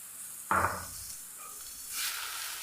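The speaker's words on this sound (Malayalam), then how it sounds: "നന്നായി ഒന്ന് വഴറ്റിയെടുക്കാം." Vegetables sautéing with a pinch of salt in a pan, giving a sudden loud sizzle burst followed by a softer continuous hiss and a later rise in frying noise, with no talking.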